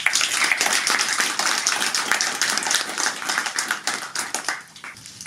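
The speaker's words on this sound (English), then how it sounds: "Please, a round of applause." An audience at an interfaith awards ceremony on Long Island claps steadily for several seconds, a dense patter of many hands that thins slightly near the end.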